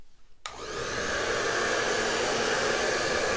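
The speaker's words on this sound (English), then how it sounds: "So if you'll just bear with the noise a minute while we dry this." A hair dryer switches on abruptly and runs steadily, a loud, close, continuous blowing whir drying a Christmas craft project, with no talking.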